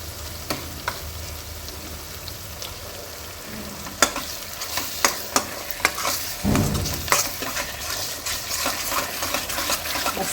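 Pav bhaji vegetables sizzle in oily masala as a spoon stirs and mashes them, sharp clacks against the pan recurring over a constant frying hiss, close by and without speech.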